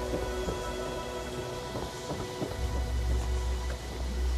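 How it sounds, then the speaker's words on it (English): Steady heavy rain pours down in Fallout 76, a dense hiss with scattered drops pattering and a low rumble underneath. "Now it's gonna be pouring down rain."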